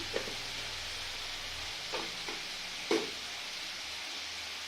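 Pumpkin chhokka cooks with turmeric, salt, sugar and roasted spices in a pan, a quiet steady sizzle with a few soft stirring scrapes and clinks.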